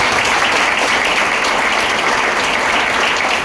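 Loud, dense applause from an audience at a leadership talk, honoring Mamta madam, a steady unbroken wash of clapping that stays full and even from start to finish.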